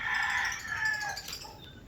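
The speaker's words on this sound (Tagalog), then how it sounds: "Mga inahin po nandito sa ilalim." Backyard chickens sheltered in a coop before a storm call out loudly, with a rooster-like crow and hens clucking close by, in a quick run of overlapping calls.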